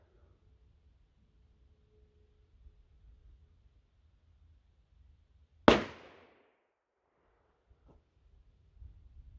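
A .30 rimfire Marlin pistol loaded with 3D printed bullets fires a single sharp, fairly loud shot with a brief decaying echo, set in an otherwise quiet outdoor scene with low background rumble.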